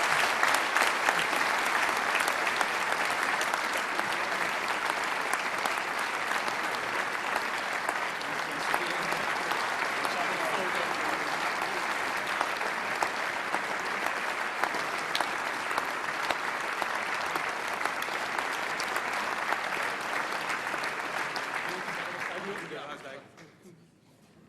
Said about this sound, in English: give Dr. Kals and Professor Dinant, for supervising him, a big round of applause